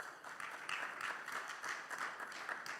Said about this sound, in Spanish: dele gloria a Dios con ese aplauso